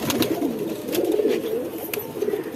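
Several hens and other pigeons in a Hemayetpur home loft cooing steadily, overlapping low throaty coos rising and falling close by, with a few light clicks and no talk.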